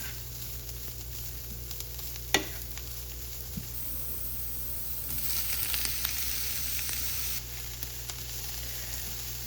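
Carrots, cabbage and onions stir-fry in a pan for yakisoba, giving a steady close sizzle with faint stirring scrapes, one sharp clack near the start and a brief rise in hissing midway.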